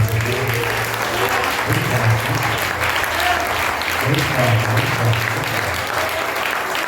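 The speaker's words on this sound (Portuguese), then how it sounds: "Você pode aplaudir o nome do Senhor." A church congregation applauds at a Pentecostal anniversary service, a steady broadband wash of clapping with voices and low tones layered underneath.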